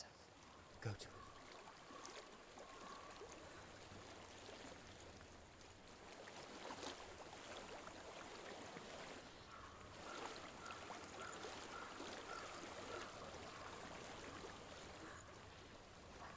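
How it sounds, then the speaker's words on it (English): Flowing stream in the Hellblade: Senua's Sacrifice video game, a faint, steady wash of trickling water that continues without a break under quiet ambient sound. "I hear water. Go to it."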